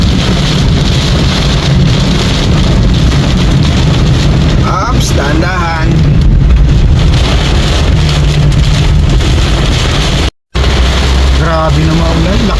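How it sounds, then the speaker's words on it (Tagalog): Heavy rain drums steadily on a Toyota Wigo hatchback driving in a downpour, a loud continuous hiss under talk from people inside the car, with a brief dropout partway through. "Malakas na ulan yan guys."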